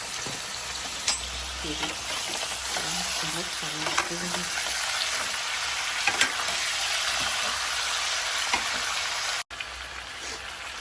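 Chicken frying with besan in a pot for biryani, a loud steady crackling sizzle with occasional stirring scrapes, and a brief spoken word partway through.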